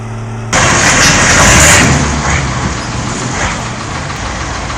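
A large tractor's diesel engine roars in loud and close, a dense continuous rumble that swells briefly and then holds steady for several seconds.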